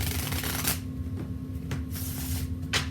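Tarot cards riffle shuffled by hand, giving several quick papery flutters and soft snaps, each bridged back together, close and fairly loud over a steady low hum, with no talking.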